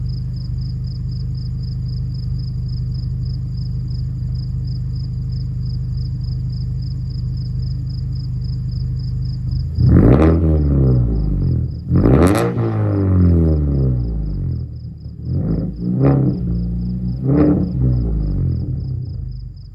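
A 2014 Mazda 3 with a straight pipe exhaust idles with a steady low rumble for about ten seconds, then a series of loud, sharp revs rise and fall, close to the microphone, with no talking.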